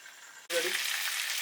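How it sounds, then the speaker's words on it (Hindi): Reshmi chicken kebabs frying in a covered pan, with a steady sizzle that starts suddenly and stays loud and even after a brief quiet moment. "ये हमारे रेशमी कबाब जो है ये बिल्कुल फ्राई हो चुके हैं"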